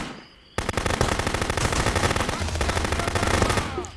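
Rapid, sustained automatic gunfire from the video game Contraband Police, loud and close, rattling continuously after a brief quiet start.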